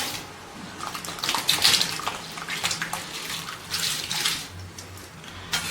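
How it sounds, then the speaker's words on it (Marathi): Soaked rice splashes and pours into boiling water for chana pulao, a wet, burbling rush with bubbling underneath, steady and close without any talking. "आता हे भिजलेले तांदूळ आपण ह्या पाण्यामध्ये घालून घेऊया"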